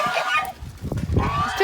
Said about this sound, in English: He's just being protective of his girls, it's to be expected. Geese do bite.